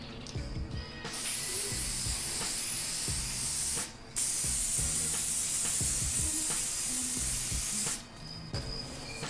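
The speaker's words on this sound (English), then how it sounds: "I'm going to go ahead and use my Mod Podge gloss transparent spray." Mod Podge gloss transparent aerosol spray is sprayed onto the inside of a glitter lamp shade in long, loud, close hissing bursts, with two brief pauses between them.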